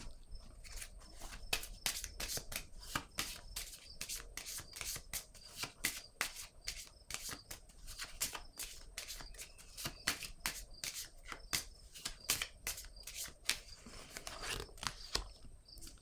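Oracle cards being shuffled and drawn from the deck, a continuous rapid riffle of soft papery flicks and slaps, close but quiet, with faint rustling of hands throughout.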